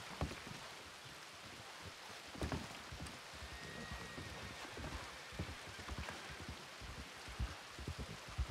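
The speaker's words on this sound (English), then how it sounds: "Oh, I better get out of the rain." Steady rain falls in the RedM (Red Dead RP) video game, a continuous broadband hiss of drops with occasional louder patter, fairly quiet and even throughout with no talking.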